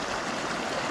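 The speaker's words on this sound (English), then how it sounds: "right there where the water's rushing over" Mountain creek water rushes over boulders beside a deep pool in Wyoming's Wind River range, a steady, loud, close wash of broadband noise lasting under a second with no talk.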